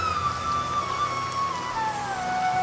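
Heavy rain pours down in a steady, dense hiss, with a thin sliding whistle-like tone drifting above it throughout.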